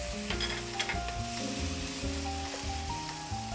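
Harissa paste drops into a hot pan for harissa pasta with cherry tomatoes and gives off a soft, steady sizzle and faint crackle, partly masked by background music, with no one talking.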